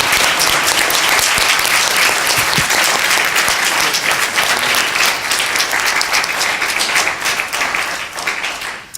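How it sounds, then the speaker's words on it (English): Loud, close applause from the audience and jury at a championship mock trial competition round, a thick continuous roar of clapping that tapers slightly near the end. "I want to give both teams a round of applause for a very fine"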